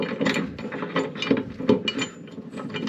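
A ratchet wrench tightens the bolt on a lawn mower blade during a blade change, giving steady close clicking strokes in a quick repeated rhythm, alone with no talk.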